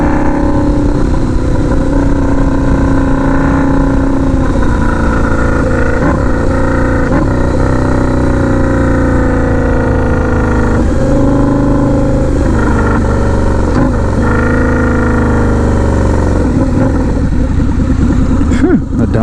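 A turbocharged Harley-Davidson V-Rod motorcycle under acceleration, a loud continuous engine roar that rises and falls in pitch through several surges, heard up close from the rider's position, with wind noise.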